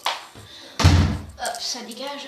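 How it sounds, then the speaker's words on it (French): A bedroom door closes with one solid, close thud in the middle. Someone talks before and after it. "Attendez, je ferme ma porte de chambre."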